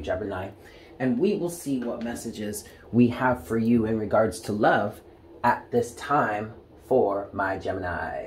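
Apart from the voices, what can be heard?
No everyday noise stands out behind the speech.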